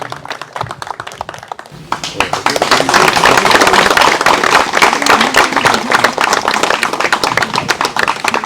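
An audience at a 2023 Royal Enfield heritage ride event claps, starting with scattered hand claps and swelling into sustained, dense applause that stays loud and near until the end.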